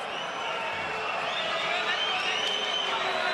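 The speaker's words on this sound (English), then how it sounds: "Crowd doesn't like it." An arena crowd at a boxing bout between Miguel Cotto and Cesar Bazan gives a sustained, disapproving roar, a steady mass of voices rising slightly and holding loud from start to end.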